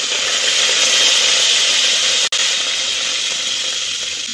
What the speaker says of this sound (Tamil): கொஞ்சம் சீரகம் பொரியட்டும்.